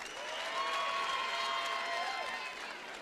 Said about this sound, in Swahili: Tumpatie makofi akitoka.